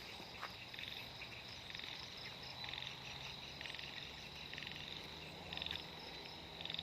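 Frogs croak in a rain-flooded garden plantation after a storm, a steady chorus of repeated pulsing calls over a dense, continuous insect-like background, with no talking.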